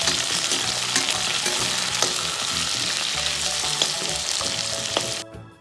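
Onion sizzles and fries in a pan with ginger, garlic and green chili for a rajma paneer curry, a loud steady crackle with stirring scrapes that cuts off abruptly at the end.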